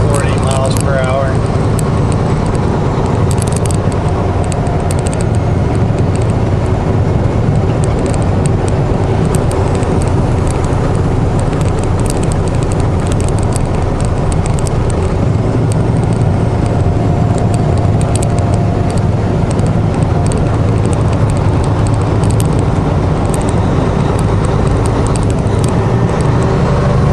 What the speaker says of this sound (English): Bridge is full of traffic.